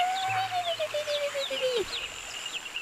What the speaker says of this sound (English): Just hear the little grebes.